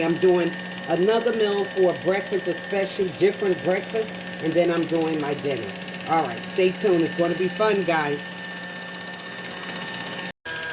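Kitchen Mama kitchen gadget running with a steady mechanical whir and hum beneath someone talking throughout, the motor continuing after the speech ends.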